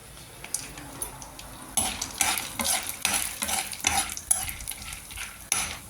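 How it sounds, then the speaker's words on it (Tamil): Chana dal stirred and roasted in a pan: repeated scraping strokes of a utensil against the pan over a soft, steady sizzle, close up with no talking. "கடலையை போட்டு கொஞ்சம் ஒரு 2 நிமிஷம் கொஞ்சம் வறுப்படணும்"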